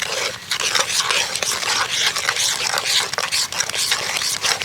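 Grated coconut stirred by hand into a thick palm fruit fritter batter in a bowl, a steady run of soft wet mixing and scraping strokes close to the microphone, with no voices.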